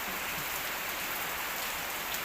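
Steady morning rain falls across a village in Isan, northeastern Thailand, a dense continuous hiss of drops on surfaces with no voices over it.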